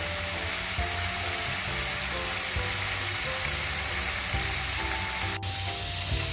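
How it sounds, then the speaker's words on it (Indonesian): Steady, close-up sizzling of flour-coated chicken frying in hot oil, a dense crackling hiss with a low background hum and occasional clatter. "Lepas tu kita goreng ayam ya guys"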